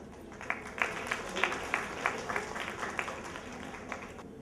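A crowd applauds guests arriving on stage at a formal Indian cultural function. The clapping is steady and moderately loud, with a few louder bursts, and runs through the whole stretch with a faint voice beneath.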